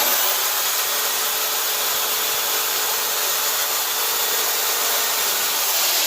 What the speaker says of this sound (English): this is just holding the saw upright